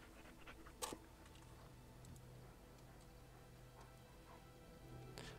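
A dog pants steadily in the Dragon Age: Origins video game, a quiet continuous breathing rhythm over low background game ambience with a faint ticking.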